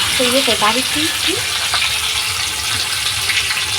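Cumin, bay leaf and dried red chilli sizzle in hot oil for a homestyle chicken curry, a dense, loud frying hiss heard up close, with a brief voice-like tone near the start.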